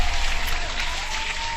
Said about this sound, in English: let's go ahead and hand clap that